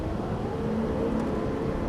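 A Lamborghini Gallardo Superleggera LP570-4 on a coned track, its engine pulling up through the gears in a loud, steady, dense roar for a brief moment, with no voices.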